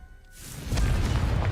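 A Confringo fire spell in Hogwarts Legacy bursts into a loud, low rumbling blast after a brief quiet lead-in, the boom swelling and sustaining to the end.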